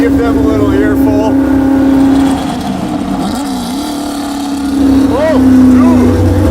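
A Shelby GT350 engine revs while driving through canyons, heard from the cabin as a loud sustained drone that dips and then swells again, with voices talking over it.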